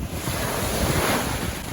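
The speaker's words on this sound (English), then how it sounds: "I know it's windy as hell with this iPhone." Strong wind buffets an iPhone microphone on New Smyrna Beach, roaring steadily over the wash of breaking surf, loud and continuous with no voices.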